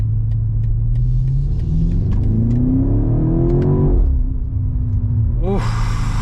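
A 2025 BMW X5M Competition with a twin-turbo V8 roars close by under throttle. The engine note climbs steadily, drops briefly at a shift, then rises again.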